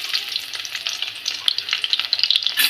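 Garlic sizzles and crackles in two spoons of hot oil for a stingray fish curry, a steady bright frying hiss with small pops and stirring, close up with no talking.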